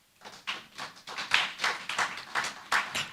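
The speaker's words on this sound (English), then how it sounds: "she deserves a special round of applause for that." Small audience clapping in a lecture setting, a brief round of applause with a steady, fairly even beat of individual claps, close and modest in volume.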